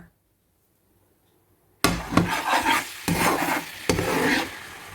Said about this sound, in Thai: จะใส่น้ำกะทิผัดนะคะ ผัดกับพริกแกง